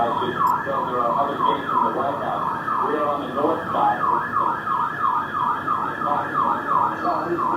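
Emergency vehicle sirens near the World Trade Center in New York, loud wailing tones rising and falling continuously and overlapping one another, close and persistent throughout.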